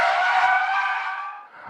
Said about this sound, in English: Now, what's the scariest thing that can happen in a car? A spin out, losing it,